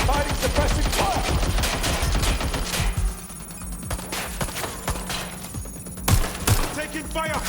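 Rapid, loud gunfire and sustained suppressive bursts from a Watch Dogs: Legion firefight, dense volleys with a brief lull before sharp shots return, under faint game voices.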